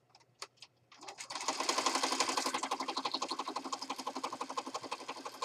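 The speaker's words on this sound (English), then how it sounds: "All the stitching. Lots and lots of stitching. We're going to stitch it." A sewing machine stitches paper journal pages: a few separate taps, then a fast, steady, rhythmic needle clatter that runs on loud and close, with no talk.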